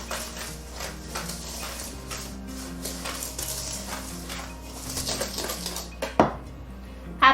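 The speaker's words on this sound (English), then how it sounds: "Stir all of those together really well until they're well blended." Sourdough fudge brownie batter being stirred in a bowl: steady clinking and scraping of a utensil against the dish, close and continuous, ending with a few louder knocks.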